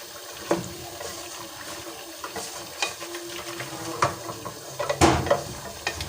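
Carrots being stirred and mixed in a pan, with scraping, light clinks and a faint sizzle, close and steady with small irregular knocks.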